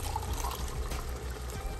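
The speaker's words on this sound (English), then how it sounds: "then we're gonna add 1 cup of water right now" Water pours steadily into a stovetop pot of beef pot roast, a continuous close splashing and trickling with no pauses.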